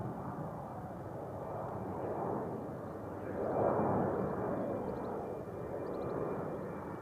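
An airliner going around at Manchester Airport, a broad roaring jet engine rumble that swells to a peak mid-clip and holds steady, distant and continuous with no talk.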